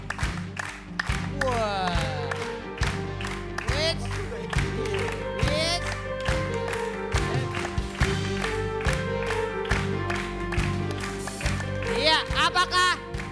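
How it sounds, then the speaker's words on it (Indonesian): A comedy studio audience clapping and cheering for a clap meter at a stand-up contest, uneven applause running throughout under near, loud talk and excited voices. "Tepuk tangan dulu yuk."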